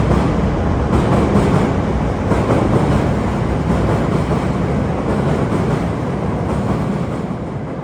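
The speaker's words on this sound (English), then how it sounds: "So much fun to walk under the elevated trains." A Chicago elevated train passes overhead at Washington and Wabash, giving a steady, dense rumble and rattle of wheels on the track that stays loud throughout and eases slightly at the end.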